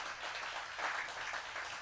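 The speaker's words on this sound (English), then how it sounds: "so that applause was for you because you're ready to go out and do it" Audience applause at a talk, steady clapping from a hall full of people, moderately loud and unbroken.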